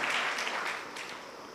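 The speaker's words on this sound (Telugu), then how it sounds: "సంతోషం గట్టిగా చప్పట్లు కొడుతూ దేవుని నామాన్ని మహిమపరుద్దాం" A church congregation claps during a Sunday service in praise, a brief burst of many hands that starts full and fades over a second and a half, heard at a slight distance.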